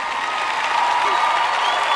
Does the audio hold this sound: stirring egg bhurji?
no